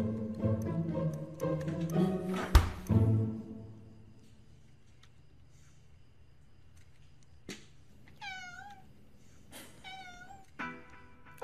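A domestic cat meows twice in clear rising-falling calls near the end, following a stretch of thumps and low room noise, fairly close and alone without talk.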